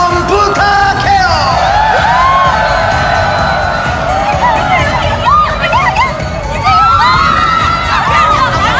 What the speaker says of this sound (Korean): 함성 부탁해요!